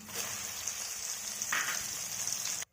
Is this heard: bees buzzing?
no